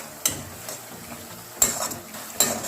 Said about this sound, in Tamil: இப்போ இந்த தக்காளி வந்து கொஞ்சம் நல்லா சுருளை வதங்கிட்டுங்க